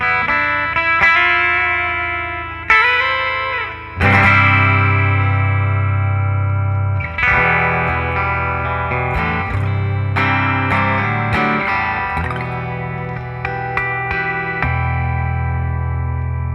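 A Guild Starfire 5 electric guitar plays a run of ringing chords and single notes, heavily washed in echo, chorus and reverb, each strum sustaining loudly over the next with no talking.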